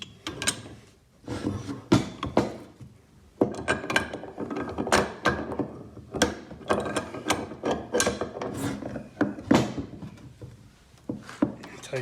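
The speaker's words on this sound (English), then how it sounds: "you're gonna tighten the coupling now, separate." Metal coupling on a hitch mount flagpole being tightened with tools, giving repeated close ratcheting and clanking mechanical clicks in uneven bursts, with a voice talking in between.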